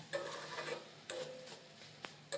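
A spoon scrapes and stirs Bengali mocha chingri, a banana-flower and prawn dish, in a pan. Soft, close, rhythmic strokes come in bursts of a few quick scrapes, with a sharp click near the end, and no talking.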